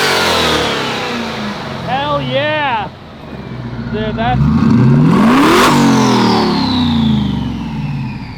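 A 1,600 hp twin-turbo Ford Raptor R pickup engine revs up in a loud rising sweep midway through, close by, while excited voices talk and whoop over it.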